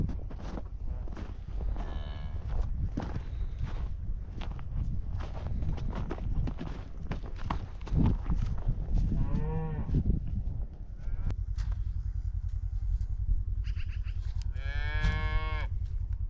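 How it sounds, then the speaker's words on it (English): Cattle on a ranch, including a cow with a newborn calf in a shelter, give several loud drawn-out moos, some close and strained, over shuffling, thumps and steady background noise. "Here's our new calf from last night, right here inside the shelter."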